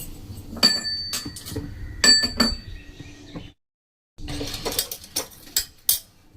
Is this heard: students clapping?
no